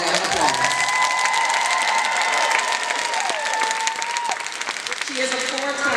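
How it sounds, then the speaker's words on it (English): A career-conference crowd applauds and cheers loudly, dense clapping mixed with rising whoops and shouted voices, continuous and full-room, easing slightly near the end. "I'm going to pause for that applause"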